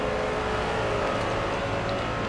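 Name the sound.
race car engine in video game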